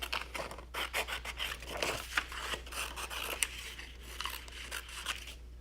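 Scissors snip out paper shapes for a kindergarten craft: rapid, close, crisp cuts in an uneven rhythm, with faint paper rustling between snips and no talking.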